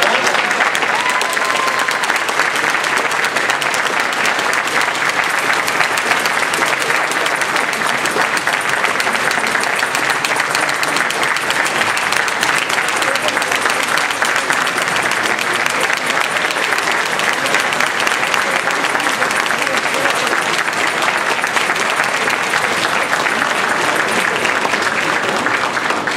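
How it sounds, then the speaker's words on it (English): A conference audience at a Toastmasters international speech contest gives the contestants loud, sustained applause from a dense crowd, steady for the whole stretch, with no talk. "Give them a big round of applause."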